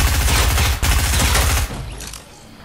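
Rapid automatic gunfire from Fortnite, loud and close, a dense burst of shots that pauses briefly, resumes, then fades into lower rumbling noise.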